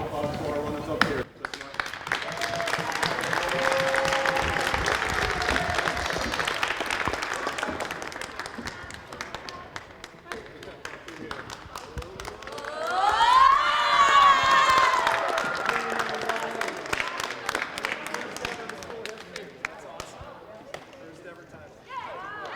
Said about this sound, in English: give a nice round of applause to our runners up here